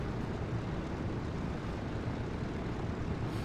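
Douglas DC-3 propeller engines drone steadily while taxiing in a flight simulator game, a dense, constant low rumble filling the moment with no talk over it.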